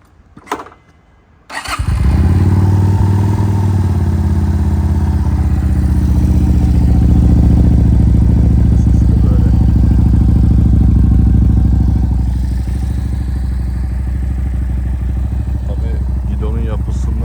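A 2024 Regal Raptor Daytona 250V motorcycle engine starts after a brief clatter, then idles loudly and steadily with a rough, throbbing, vibrating rumble close by.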